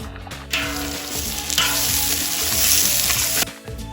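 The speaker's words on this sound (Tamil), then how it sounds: "1 or 2 செகண்ட்ஸ் இந்த மசாலா ஐட்டம்ஸ் எல்லாம் பொரிஞ்சதும் நம்ம பெரிய வெங்காயத்தை சேர்த்து நல்லா வதக்கிக்க போறோம்" Whole spices and then large onions hit hot oil for a big-batch chicken biryani, giving a loud, steady broadband sizzle that jumps up as the onions go in and carries on with stirring clatter, with no talking.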